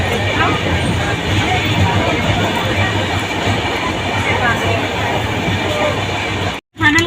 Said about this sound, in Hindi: अभी तो ट्रेन चला